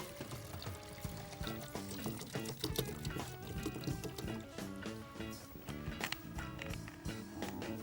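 Hot liquid poured from a bottle during a science challenge, a steady splashing pour running throughout amid busy clattering background noise.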